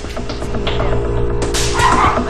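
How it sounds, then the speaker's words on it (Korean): A dog barks and yips in a home, a few sharp close barks mixed with whimpering sounds over a low background hum, fairly loud. "루비가 짖자 또다시 무섭게 돌진합니다"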